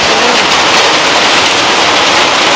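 Steady heavy rain pours down close by, a dense, unbroken hiss filling the whole stretch with no voices.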